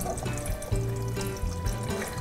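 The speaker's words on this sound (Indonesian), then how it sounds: "Langsung kita masukkan 1 liter air ya." Water pours steadily into a pot of agar-agar powder while making a polka-dot pudding, a continuous close splashing fill lasting the whole stretch with no talk.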